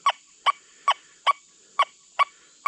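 An XP Deus 2 metal detector sounds its target tone over a dime, seven short, evenly spaced bright beeps about every 0.4 seconds, loud and clean with no talking.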